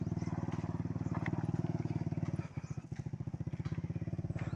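A motorcycle engine labors under heavy load, its steady rapid chugging pulse dipping and faltering briefly midway before picking up again, close and continuous with no talk over it.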